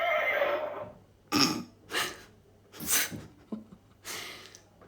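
A horse whinnies loudly at first, then gives a series of shorter neighs and snorts at roughly one-second intervals, close and clear with no talking.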